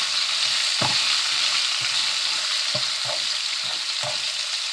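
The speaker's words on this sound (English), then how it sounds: "So we're going to brown this meat up here." Beef browning in a soup pot gives a steady, loud sizzle throughout, broken by a few short scraping knocks as the meat is stirred.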